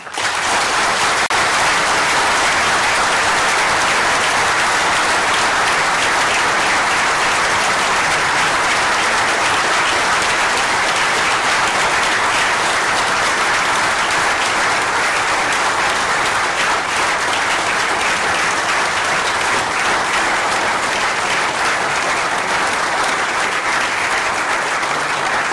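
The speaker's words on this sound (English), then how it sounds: "I think Rafael, that applause gives you a sense of really what a barnstorming performance that was" Sustained, loud audience applause after a university inaugural lecture, a dense, even wash of clapping that carries on unbroken for the full stretch.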